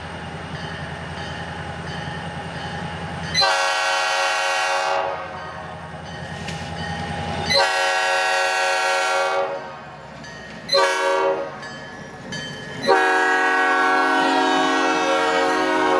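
A freight train nears a wood yard in Pembine, its horn sounding in several long, loud blasts separated by short gaps over a low rumble of the moving train.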